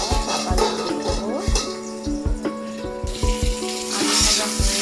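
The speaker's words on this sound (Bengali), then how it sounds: "আলুটাকে ফ্রাই করার জন্য কড়াইতে দিয়ে দিয়েছি" Potatoes frying in oil in a kadai, a steady close sizzle and bubble with repeated clinks of a utensil against the pan in an uneven rhythm.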